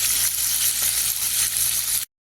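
Chicken broast pieces frying in a deep pan of hot oil give a steady, dense, loud sizzle with no voices, then the sound cuts off abruptly near the end.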